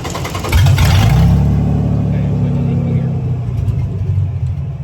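A 1946 Willys CJ2A engine cranks and catches, then runs loudly up close with a deep rumbling idle and revs that slowly settle; people talk briefly.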